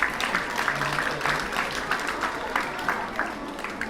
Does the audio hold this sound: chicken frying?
no